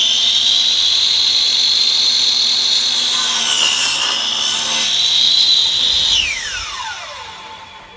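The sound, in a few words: saw cutting through a wooden board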